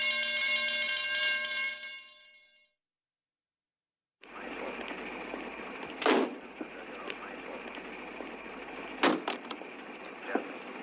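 An alarm rings in a German radio drama, a steady electronic tone that sounds for about two seconds and cuts off. After a short silence, a busy noisy scene follows with a few sharp bangs.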